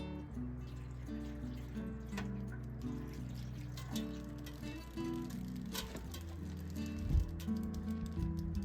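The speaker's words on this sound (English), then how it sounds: "Oh, it's dripping through over here." Rainwater drips and trickles through the roof of an off-grid tiny house, a steady close patter with scattered louder drops and a gurgling run of water, with no talking over it.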